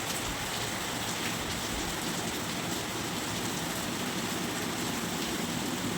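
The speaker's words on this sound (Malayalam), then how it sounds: "ആ മഴയുടെ ഒരു സൗണ്ട്." Steady rain falls outside, a constant, even hiss of drops on surfaces that holds without a break, moderately loud and with no voices over it.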